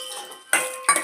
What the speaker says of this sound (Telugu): నెయ్యి వేసుకొని కరిగిన తర్వాత ఇప్పుడు జీడిపప్పు కిస్మిస్ వేసుకోవాలండి